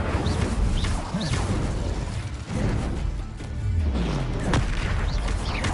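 Spells such as Confringo and Incendio blast in Hogwarts Legacy, with repeated booming explosion bursts and crackling magical effects rolling over a rumbling low backdrop, with no talking.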